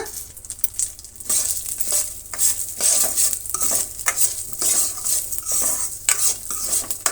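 Chana dal, urad dal and cumin fry in a pan for curry leaf chutney, a sizzling crackle broken by repeated scraping stirs and light clinks of a spoon against the pan, with no voices.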